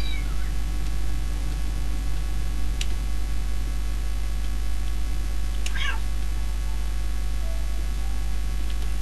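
A cat meows inside the video game Postal 2, with a few short distinct meows spread across the stretch over a constant electronic hum and faint background game noise.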